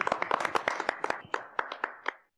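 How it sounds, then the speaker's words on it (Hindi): A small group of people in a Hindi family comedy scene claps in a short, close burst of about a dozen sharp, uneven hand claps that thins out and stops abruptly. "तालियां!"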